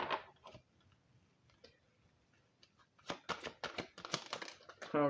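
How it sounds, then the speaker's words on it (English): An oracle card deck being shuffled by hand, a run of soft close-up card flicks and riffles that turns denser and louder toward the end, with no talk over it. "Get a little good shuffle on it too, so it's totally random."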